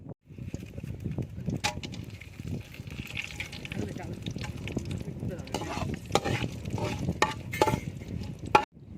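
Whole spices dropped into hot sesame oil sizzle and crackle loudly and steadily up close, with stirring scrapes and sharper pops breaking through the continuous frying hiss.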